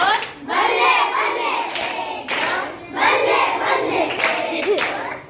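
Children in a Marathi fourth-grade school class clapping together in a rhythmic 'balle balle' pattern, bursts of group claps and shouts recurring in waves, close and lively with no single voice standing out.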